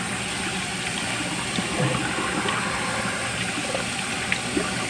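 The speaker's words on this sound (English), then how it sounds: "Now we're going to rinse our face off with just some water." Running water splashed while a person rinses their face at a sink, a constant rushing wash with small splashes throughout, fairly loud and close, no talking.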